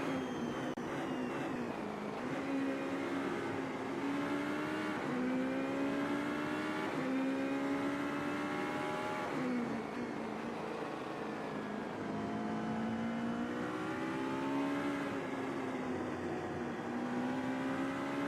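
A Super GT race car in a sim racing game revs and shifts through a turn in qualifying, its engine whine climbing and dropping steadily close up, with no talking.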